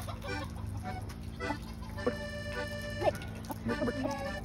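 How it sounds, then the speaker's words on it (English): A socialized chicken on a farm clucks in short bursts, with several close, sharp calls over a soft background hum and a faint voice now and then. "He's a nice chicken."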